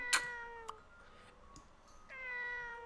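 A cat meows in the video game Layton's Mystery Journey, a clear, bright meow heard twice with a short pause between, alone in quiet surroundings.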